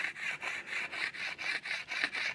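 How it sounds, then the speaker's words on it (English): Rhythmic back-and-forth rasping as a wooden bow is sanded with an arrow shaft smoother, about nine even strokes, close and fairly quiet with no talk. "to have to do now is sand the entire bow"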